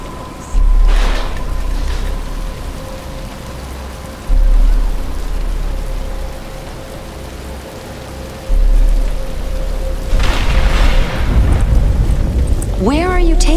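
Rain falling in the Batman: Arkham Asylum video game, a steady hiss that swells in bursts, heard beneath voices and music.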